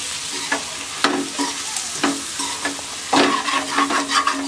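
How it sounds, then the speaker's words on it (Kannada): A spoon stirs and scrapes egg fried rice across the bottom of a hot pan in brisk repeated strokes, sharp metallic scrapes riding over a steady sizzle, loud and close with no speech. "ಈ ತರ ನಾವು ತಿರ್ಚ್ಕೊಳ್ತೀವಲ್ಲ ಅದೇ ಸ್ಪೂನಲ್ಲಿ ಹಿಂಗೆ ಮಾಡ್ಕೋಬೋದು."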